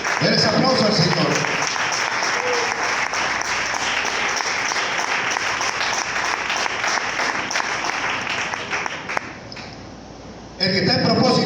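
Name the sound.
church congregation applauding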